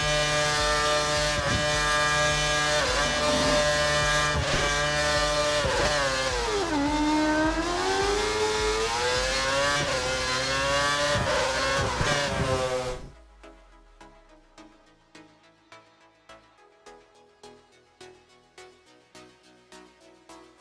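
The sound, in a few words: F1 car accelerating down a straight, from F1 2013 video game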